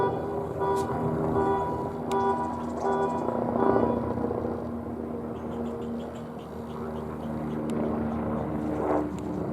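A helicopter's rotor throbs loudly and continuously, its engine drone holding steady with little change over the span.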